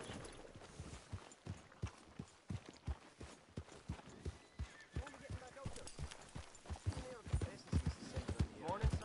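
A horse's hooves beat a steady, rhythmic clip-clop at a trot or gallop in Red Dead Redemption 2, clear and close throughout, while a voice speaks briefly over them.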